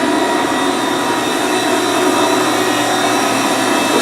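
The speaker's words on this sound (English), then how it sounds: "The spindle running right now." A Haas VF-5 CNC vertical machining center spindle runs at about 7,500 RPM, giving a steady, loud, high-pitched whine that holds unchanged throughout.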